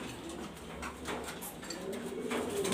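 Grizzle racer pigeons coo softly in a loft, their low repeated calls faint and steady against a murmur of background noise.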